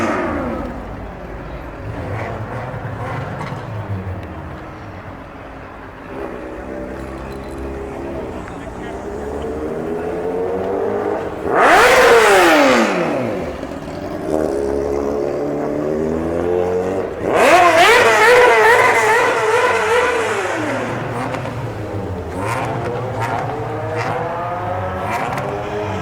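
Motorbike engine revving hard at a car meet, two loud rising bursts with a fading pitch sweep standing out over a steady crowd and engine murmur, with people chatting nearby.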